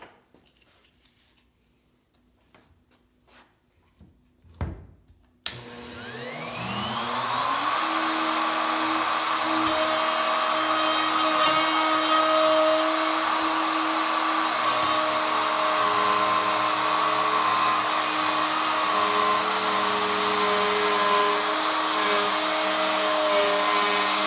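A router cuts a dado while guided along a Festool track. It spins up sharply after a few faint clicks and then holds a loud, steady whine with a constant tone.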